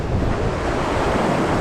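Ocean waves and wind at sea, a steady loud wash of surf with wind buffeting the microphone, continuous with no breaks.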